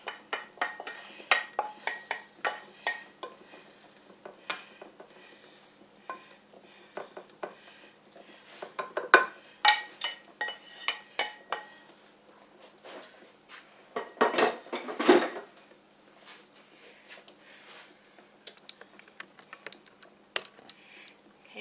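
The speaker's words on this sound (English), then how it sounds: "I'm just going to put this in the casserole dish." Cooked ground beef scraped and spooned into a casserole dish, a series of scattered clinks, scrapes and soft knocks of utensil against dish, close and fairly quiet.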